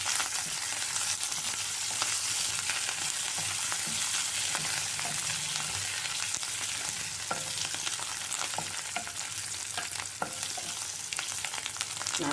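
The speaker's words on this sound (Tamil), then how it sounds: "நல்லா எண்ணெயிலேயே வதங்க கொத்தமல்லி டேஸ்ட்டாக இருக்கும்." Oil sizzles and crackles steadily in a pan as chopped coriander fries, with occasional stirring clicks, close and continuous throughout.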